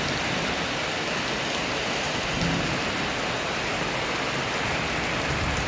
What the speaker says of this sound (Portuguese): A chuva chegou, graças a Deus.